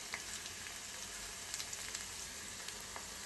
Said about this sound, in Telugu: సో సాల్ట్ కూడా వేసేసిన తర్వాత ఆనియన్స్ అన్ని బాగా ఫ్రై చేసుకోండి